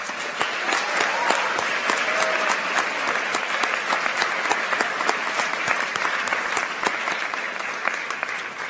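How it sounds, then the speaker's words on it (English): An audience applauds at a school awards ceremony, a sustained wash of many hands clapping that stays steady for several seconds, fairly loud and filling the room. "Angela, please rise to receive our applause."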